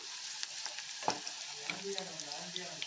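Onions frying in oil while being stirred in a pan, a soft continuous sizzle with occasional scrapes and light clinks of the spoon, close but quiet, no talking.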